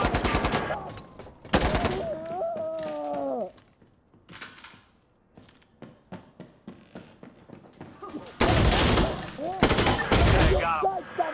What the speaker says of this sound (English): Got target. Opening fire.